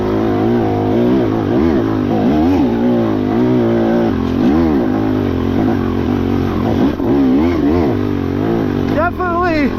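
A 300XC TBI two-stroke dirt bike engine revs hard and loud while riding up a steep hill, its pitch rising and falling continuously, with a person talking over it throughout.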